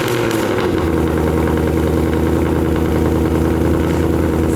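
A Ford Mustang GT V8 fitted with Stainless Works headers and exhaust idles steadily, a deep, even rumble with a low throbbing pulse, loud and close with no talk.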